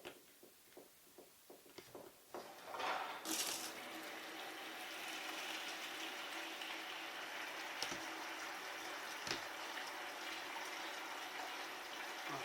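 Water from a tap runs steadily into a bucket during a test of a newly installed hot water boiler in a cabin, starting after a few clicks and knocks, then a continuous close hiss.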